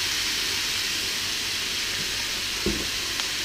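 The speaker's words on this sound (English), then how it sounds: "you want to add the snow peas" Snow peas and onion sizzle steadily in a pan of beef stir fry, a constant close hiss with one soft thump partway through.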